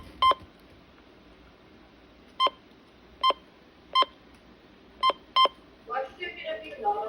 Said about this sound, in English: The button beeps.